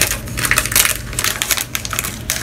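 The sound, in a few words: crinkling packaging during a haul unboxing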